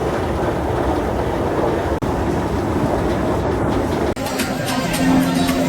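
Kolkata Metro train running toward Dum Dum, a loud steady rumble with a rolling clatter heard close by, joined near the end by a high squealing tone.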